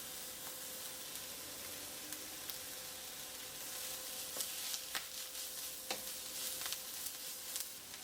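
Korean wakame seaweed stems sizzle in a pan as they are stir-fried, a steady hiss broken by sharp scraping strokes of a utensil against the metal, growing busier toward the end, near and fairly clear with no talking.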